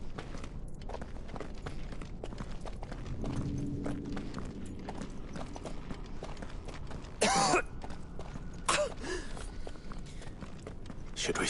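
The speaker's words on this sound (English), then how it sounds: "Because of the cough." A character in Final Fantasy XVI gives a couple of short, harsh coughs late in the stretch, standing out over a quiet bed of ambient game sound and soft footsteps.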